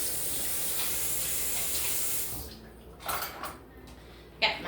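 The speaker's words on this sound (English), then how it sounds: "let me rinse my hands off" A kitchen tap runs in a steady, close hiss while hands are rinsed under it. After a couple of seconds the flow cuts off, and brief wet splashes and clinks follow.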